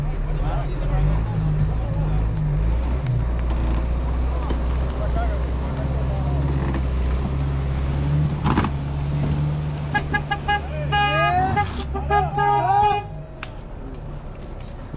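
Vehicle engine on an Amazon expedition track pulling a stuck car out of a hole: a sustained low engine rumble under people talking, with a horn-like toot and shouting rising near the end.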